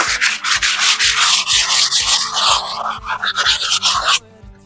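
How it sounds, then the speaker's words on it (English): A wall is sanded by hand during house painting preparation, with loud, rhythmic back-and-forth scraping strokes repeating steadily before stopping abruptly near the end. "Now we're done with sanding"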